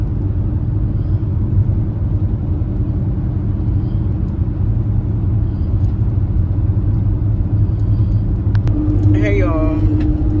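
Steady low road rumble and engine drone from inside a car driving to a school drop-off, continuous throughout, with a brief higher tonal sound near the end.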